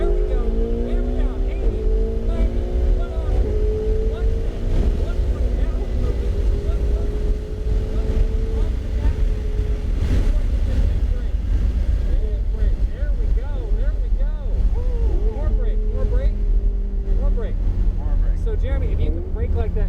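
Ferrari 488 GTB engine revving and pulling on a race track at Portland International Raceway, with rising and falling tones under steady loud roar throughout, loud and close as the car accelerates.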